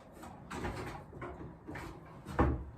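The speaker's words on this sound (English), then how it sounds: "It's hitting that door at the top, get it past that." On a plumbing job, an object being manoeuvred knocks against the top of a door, making several soft, uneven bumps and thuds over a few seconds, close and quiet, with no speech.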